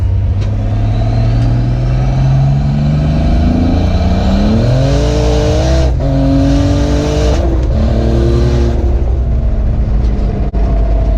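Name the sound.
turbocharged car engine accelerating hard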